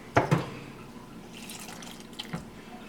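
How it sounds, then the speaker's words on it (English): Tomatillos drop into a pot of water for salsa verde, two close splashy plops near the start followed by quieter sloshing and a couple of light drips, with no talking. "We're going to take the tomatillos, we're going to put them in water."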